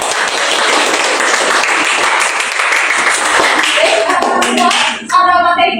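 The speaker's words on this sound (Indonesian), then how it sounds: "Tepuk tangan kita semuanya." A class of students claps hands in a classroom lesson, a dense, loud burst of applause that runs steadily and then breaks off near the end as a voice begins to speak.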